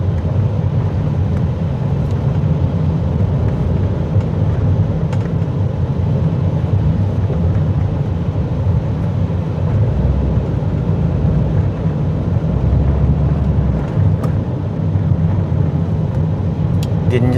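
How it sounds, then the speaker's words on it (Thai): Evening road traffic on the outskirts of Vientiane, a steady loud low rumble of passing cars and motorcycles overtaking, continuous engine and tyre noise heard close by with no clear breaks. "โอ้รถมาหลายแซงบ่ได้รถจักรนี่ไปได้เนาะรถจักรแซงได้"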